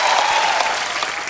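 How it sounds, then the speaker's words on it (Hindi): A television studio audience applauds to welcome cricketers Suresh Raina, Shikhar Dhawan and Hardik Pandya, giving a short, loud, close wash of clapping. "जोरदार तालियां।"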